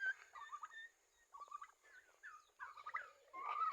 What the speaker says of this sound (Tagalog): yan yung mga pabo natin